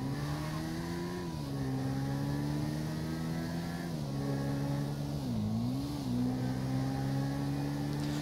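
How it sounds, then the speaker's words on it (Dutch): Stolen car pulling away in GTA 5, its engine note droning steadily and shifting pitch as it revs and accelerates, loud and continuous with no talk. "daar gaat een gestolen voertuig"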